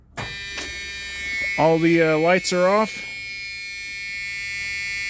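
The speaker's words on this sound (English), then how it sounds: "You're going to hear 23's buzzer." A steady electric buzzer on a bus drones continuously as its switch is turned off, with a person talking over the tone partway through.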